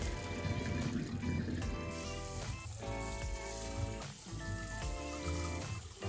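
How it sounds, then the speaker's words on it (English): Boiled red beans drained through a sieve and rinsed, with water pouring and trickling steadily in a kitchen, close and continuous, with musical tones running beneath. "drain a sieve and shower the beans again"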